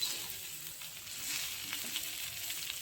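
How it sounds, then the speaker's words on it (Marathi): Masala okra fries in a pan, a close, continuous crackling sizzle with faint stirring throughout. "पाच मिनिटं भेंडी शिजू द्यायची आहे."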